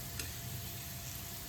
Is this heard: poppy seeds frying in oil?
yes